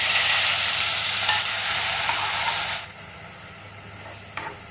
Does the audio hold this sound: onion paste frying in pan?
yes